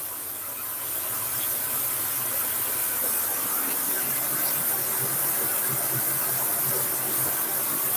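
A kitchen extractor fan runs over a stove while steak and potato cakes cook, giving a steady, moderately quiet airy hiss that starts up and holds evenly throughout.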